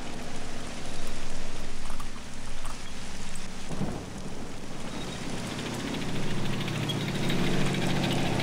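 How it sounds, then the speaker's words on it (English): In the Men of War: Assault Squad 2 battle game, a vehicle engine rumbles low and steady as it approaches, blended with rain-like ambient noise and a few distant thuds. "I hear a vehicle coming."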